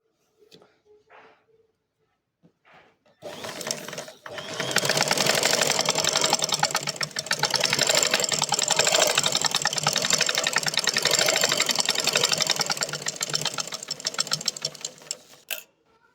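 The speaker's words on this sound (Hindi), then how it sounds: "फिर मैं इसको इस तरह से डबल फोल्ड करके इसके ऊपर मैं सिलाई लगा दूंगी।" A sewing machine runs in one long, steady, rapid stitching burst across a double-folded fabric strip, close and loud, after a few quiet handling noises and brief speech at the start.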